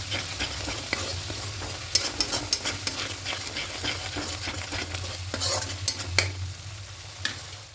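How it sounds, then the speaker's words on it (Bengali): Coriander leaf paste stir-fried into a thick egg curry gravy, a close crackling sizzle broken by rapid, repeated spatula scrapes and clacks against the pan, with no talking. "দিয়ে সব কিছু আর একটু ভালো করে কষিয়ে নেব, ধনে পাতার কাঁচা গন্ধটা চলে যাওয়া পর্যন্ত"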